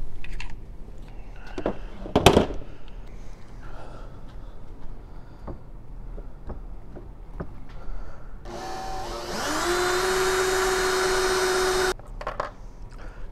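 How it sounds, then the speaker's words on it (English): Handheld power drill boring a hole in a clamped part for a muffler on a 2006 Mastercraft Maristar boat, a loud steady whine rising and running for about three seconds, preceded by scattered tool clatter and handling knocks. "Now I'm just going to grab our drill here."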